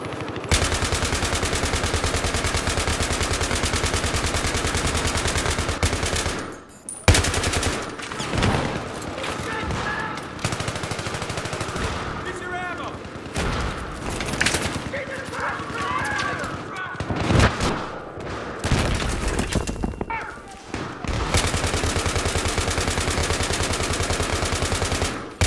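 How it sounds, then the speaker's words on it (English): Battlefield 3 on Xbox One with loud, sustained automatic gunfire in long dense bursts broken by brief pauses, a player talking over the shooting. "I'm shooting too much with this gun."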